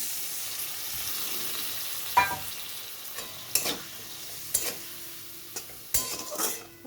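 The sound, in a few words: spice paste of ginger and cumin frying in a pan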